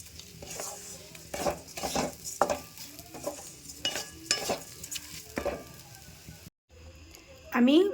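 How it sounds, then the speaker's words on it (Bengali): Rice fries in a pan for basanti pulao, with a low sizzle under repeated clacking and scraping strokes of a spatula against the pan, close and moderately loud, followed by a brief pause and a sharper scrape. "এটা ভালো করে ভাজা ভাজা হোক"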